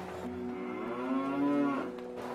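A single long cow moo, loud and close, rising and falling over about two seconds with no voices.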